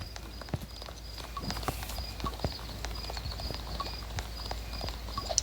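Steady horse hooves clip-clop at a walking pace while riding out of the stables in the Horse Valley video game, regular and fairly close over a faint ambient background, with no talk.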